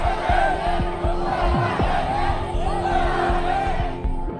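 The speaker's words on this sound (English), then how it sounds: "Social media footage shows crowds protesting in front of the offices of the Chinese real estate developer Evergrande" A crowd protesting outside the offices of Chinese property developer Evergrande: many voices shout and chant together in a loud, continuous roar, with rhythmic yelled bursts rising from the mass of people.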